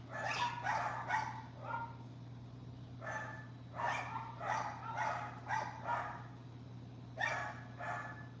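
Several dogs bark in repeated bursts at a moderate distance over a steady low electrical hum, with short gaps between volleys of barking.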